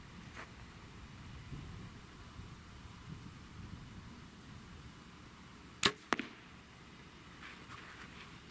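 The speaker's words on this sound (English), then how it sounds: "So wherever that first arrow goes, that's where it's going to be." An arrow loosed from an Elite Energy 35 compound bow gives a sharp, near snap at release, followed a moment later by a quieter impact, all against a faint outdoor hush with no talk.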